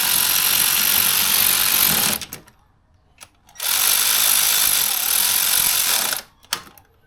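A ratchet wrench cranks on the cylinder head bolts of a V6 engine during a budget L67 top swap, two sustained bursts of rapid, loud clicking separated by a short pause and a few isolated clicks.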